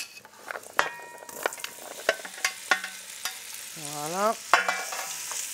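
Squash slices turned with a spoon in olive oil and bacon in a cooking pot: a close, sizzling stir with repeated scraping clinks and knocks, plus a short spoken word near the end.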